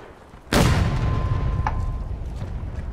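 A single loud artillery cannon blast in the Civil War game War of Rights, a sharp boom followed by a long rumbling decay, with a fainter distant shot trailing after.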